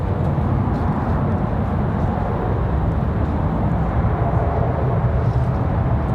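Envoy airliner from Washington Reagan slowly taxiing in at Raleigh Durham airport, a steady low engine rumble and broadband hiss that holds at an even level throughout with no voices.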